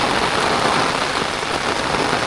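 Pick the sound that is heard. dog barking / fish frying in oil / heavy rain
heavy rain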